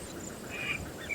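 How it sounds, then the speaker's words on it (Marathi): A female Indian spot-billed duck calls with a brief, fairly faint quack or two over a steady outdoor background hiss. "हा असा मादीचा आवाज मोठा आणि स्पष्ट असतो"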